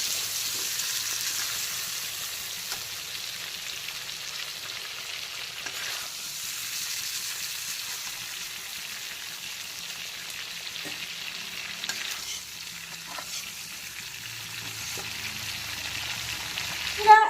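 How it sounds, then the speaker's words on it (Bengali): Shrimp frying in oil, a faint steady sizzle that runs quietly and evenly throughout, with a few soft clicks near the end and no voices. "তো এখন কিন্তু চিংড়িগুলোকেও মিডিয়াম ফ্রাই করে নিয়েছি"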